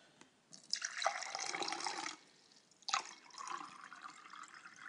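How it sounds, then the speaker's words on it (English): Milk is poured into a bowl in two separate streams, each a close splashing gurgle lasting over a second with a short pause between them, and no voices. "So I'm just literally going to pour this milk in here."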